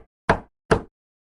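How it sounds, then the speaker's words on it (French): Two slow, solid knocks on a bedroom door, evenly spaced and close, with silence between and after. "3 coups lents contre sa porte."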